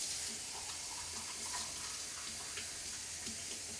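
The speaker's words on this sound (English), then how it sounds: "Get some water in here." Water pours steadily into a pot of sauce at low volume, an even rushing splash lasting a few seconds with no talk over it.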